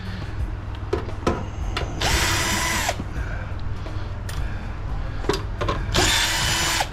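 A power screwdriver backs screws out of an 80's microwave in two distinct buzzing bursts of about a second each, heard over a low steady hum and scattered clanks of handling.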